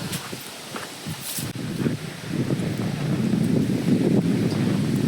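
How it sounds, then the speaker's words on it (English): Breeze blowing steadily on a hiking trail at Pictured Rocks National Lakeshore, Upper Michigan, a soft rushing wind that builds slightly, with faint rustling and a few light bumps near the microphone. "Breeze sure is nice."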